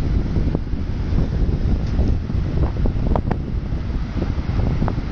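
Steady wind gusting across a beach at Paiva, a continuous low rushing roar buffeting the microphone, with faint surf and occasional brief knocks beneath it and no voices.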